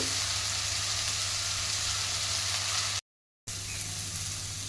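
Steady, dense sizzling of steamed elephant foot yam frying in hot oil, close and continuous, with a brief cut to silence partway through.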